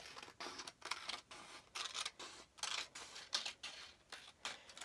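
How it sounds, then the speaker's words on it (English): Scissors snip through a strip of recycled plastic cup, a close, steady series of crisp crunching cuts with short pauses between them and no talking. "I'm going to take a piece of this and cut it into a strip."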